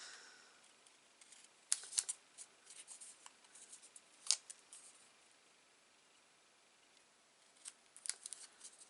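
Scissors rounding off the corners of small paper labels, giving soft, close snips in scattered bursts over a quiet background.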